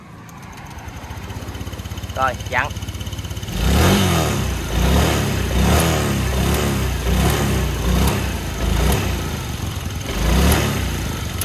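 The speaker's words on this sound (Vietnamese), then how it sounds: "Rồi nổ máy em" A Honda Air Blade scooter with a chronic throttle-bog fault starts close by, then idles and revs in several throaty bursts while someone talks over it.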